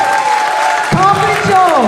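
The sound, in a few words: audience applause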